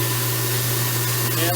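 A newly installed garbage disposal runs steadily under a kitchen sink, giving a constant low motor hum with a whirring wash on top that holds level throughout.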